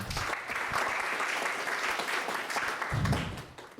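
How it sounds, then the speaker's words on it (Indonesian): An audience at an interfaith dialogue held in Istiqlal Mosque bursts into steady, dense applause that fills the space, tapering off near the end. "Tepuk tangan untuk kita semua."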